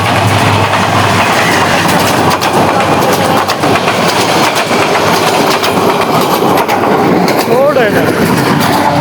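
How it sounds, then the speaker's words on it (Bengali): A train rumbles past right behind a person, loud rolling wheels and steady clickety-clack on the rails, with a person talking over the noise. "বুঝতে পারছো বোবা ট্রেনটি আমার পিছে"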